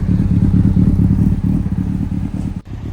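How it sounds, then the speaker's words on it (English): A Honda CBR600RR motorcycle engine idles high and steadily with a fast, throbbing rumble and some rattly clatter, loud and close, dipping briefly near the end. "It's also idling kind of high."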